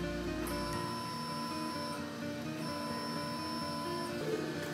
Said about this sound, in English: press J plus, move up the nozzle a little bit